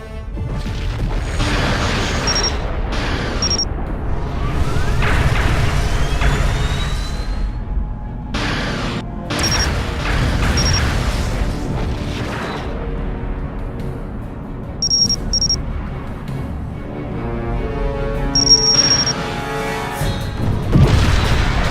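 A Klingon vessel is destroyed in a Star Trek Legacy space battle, with repeated heavy explosions, crashes and booms layered over sustained rumbling and whooshing effects, loud and continuous throughout.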